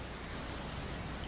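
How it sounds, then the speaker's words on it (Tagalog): Rain falls in a steady, even hiss of dense drops, soft and continuous with no voices. "Parang ngayon na lang ulit ako naka-experience ng ulan."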